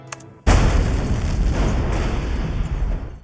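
A loud, close explosion in a film erupts suddenly after a brief quiet moment, followed by a long, heavy roar with rumbling debris that slowly fades.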